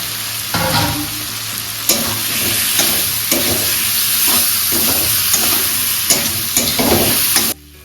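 Vegetables tipped into hot oil with frying spices, then stirred: a steady loud sizzle and hiss with repeated scraping stir strokes throughout, ending abruptly.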